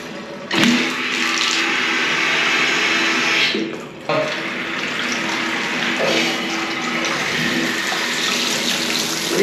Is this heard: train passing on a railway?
no